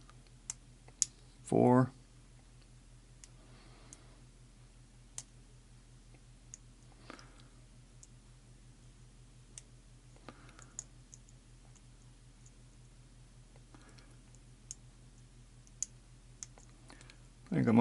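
A lock pick works the pins of an ACE 64mm padlock, scattered faint close-up clicks and ticks under a steady low hum, with brief spoken words near the start and end.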